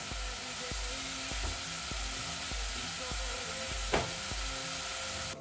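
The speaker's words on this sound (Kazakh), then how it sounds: "Фаршымыз қуырылып жатқан кезде" Minced meat fries in a pan with a steady close sizzle, overlaid by a repeating low rhythmic thump and a brief sharper clatter near the middle; no one talks.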